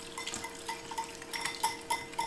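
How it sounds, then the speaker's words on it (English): A whisk beats a dressing of pepper and garlic powder in a bowl, giving a quick, regular series of light clinks and scrapes against the bowl, fairly faint and close. "Then let's whisk it all together."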